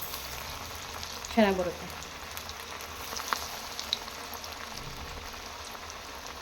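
Masala vada, chana dal fritters, fry in hot oil with a soft, steady sizzle and crackle and a brief louder bubbling burst, while a voice speaks briefly.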